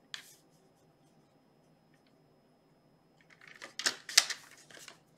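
A paper trimmer slices a strip of cardstock: after a quiet pause, a close burst of scraping, clicking blade strokes lasts a little over a second, with no voices.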